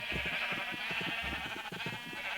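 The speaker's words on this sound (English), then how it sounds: "These sheep are noisy." Several sheep in a Minecraft SevTech Ages mob slaughter factory bleat repeatedly in quick overlapping calls over a constant background hiss, fairly close and insistent.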